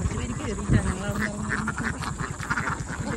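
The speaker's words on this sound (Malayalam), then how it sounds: "ഇവിടെ താറാവുകൾ കയറുന്നുണ്ട്." Ducks climbing in during an evening outing, giving a few quacks and honks over a busy outdoor background with a continuous low hum and some voices.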